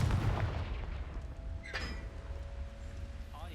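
A Confringo spell blast in a Harry Potter wizard video game erupts as a loud, booming burst at the start, followed by a softer crackling impact and fading rumble, with no talking.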